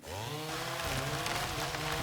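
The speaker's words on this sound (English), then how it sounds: "Chainsaw." A video-game chainsaw cuts down trees, its motor roaring loud and steady throughout with a rising, revving whine and no talking.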